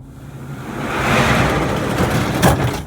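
A RetraxPRO XR retractable tonneau cover slides back along a pickup truck bed with a smooth, rising rumble, then ends in a short knock near the end. The sound is close and steady, with no talk.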